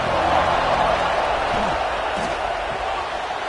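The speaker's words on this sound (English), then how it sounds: "This crowd ready to make its presence known." A packed college football stadium crowd at an Oregon versus UCLA game roars in a dense, steady wash of cheering, a commentator talking over it.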